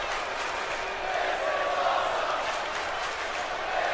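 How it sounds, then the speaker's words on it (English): Crowd noise from a WWE 2K20 wrestling match, a steady roar of chanting and cheering from the arena audience, sustained and loud throughout with no break. "Crowd chanting, this is awesome"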